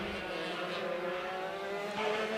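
Racing kart engines buzzing and droning around a kart track during a race meeting, a steady blend of distant motors with a rising note near the end; no clear talking.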